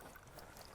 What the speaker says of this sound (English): The tranquil sound of it trickling